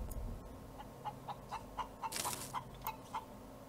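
A chicken in the space survival game Breathedge clucks in a steady run of about ten short, evenly spaced calls, moderately loud over a low background hum, with a brief burst of hiss partway through.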